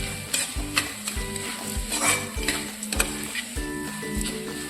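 Spices temper in hot oil for a Kathiyawadi chili pickle, giving a close, continuous sizzle with repeated stirring scrapes in a pan.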